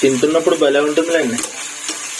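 Potatoes with cumin sizzling and being stirred in a pan, a steady frying hiss with occasional scrapes, mostly under a person speaking over it.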